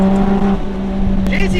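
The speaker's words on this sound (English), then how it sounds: "I'm driving my JZX110 Mark II right now with" A Toyota JZX110 Mark II with a 1JZ engine cruises along, its steady engine drone and road noise clearly heard from inside the car, with someone talking over it.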